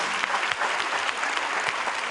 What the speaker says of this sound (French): On les applaudit, voilà.